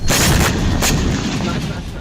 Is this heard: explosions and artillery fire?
yes